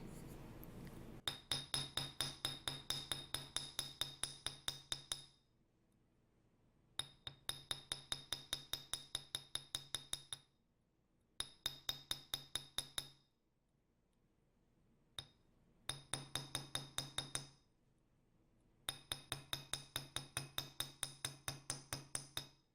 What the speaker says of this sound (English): And now we want to hammer these as well.